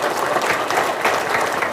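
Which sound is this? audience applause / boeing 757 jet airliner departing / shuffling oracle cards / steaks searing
audience applause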